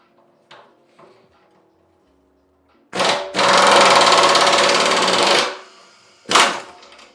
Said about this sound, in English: I'm going to take my impact wrench, put the half-inch extension in it, put it down in this, and give this a quick zap